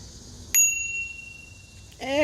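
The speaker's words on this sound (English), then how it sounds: "Comes with the bell, nice little dingy bell." A small handlebar bicycle bell on an AC1Pro electric scooter gives a single bright ding that rings on and fades, close and clear, and a voice begins to speak at the end.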